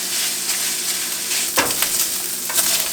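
Spaghetti sauce ingredients fry steadily in a consistently hot pan, giving a continuous close sizzle with a few brief stirring scrapes.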